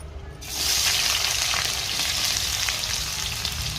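Chopped onions drop into hot oil for an egg fry and burst into a loud, steady sizzle that sets in sharply after a brief quiet moment and keeps hissing without a break.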